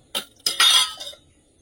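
Metal lids are set down over pots and dishes in a home kitchen, giving a few quick clinks and clatters in close succession, loud and near.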